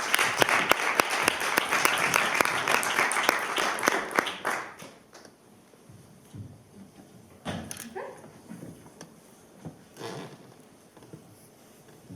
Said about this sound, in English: Could you please give a big round of applause for Yerin?